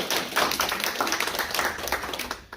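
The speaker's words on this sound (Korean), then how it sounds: "우리 크게 환영의 박수 드립니다." A church congregation at a Sunday service claps to welcome a visiting family, a dense burst of many hands applauding together at close range for a couple of seconds.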